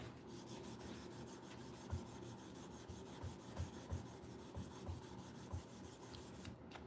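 Sandpaper rubbed by hand over a workpiece indoors in a living room, dry and without soaking, giving quiet repeated rasping strokes at an uneven rhythm, faint and close with no talk.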